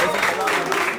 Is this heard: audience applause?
yes